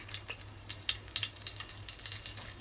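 Cinnamon, cloves, pepper and a bay leaf fry in a few spoons of hot oil, giving a close, continuous crackle and sizzle with scattered sharp pops.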